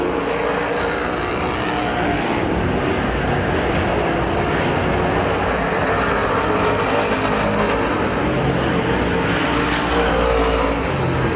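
Super stock race cars roar around the oval at Perris Auto Speedway in a dense, continuous wash of engine noise, loud and steady for the whole stretch with no voices over it.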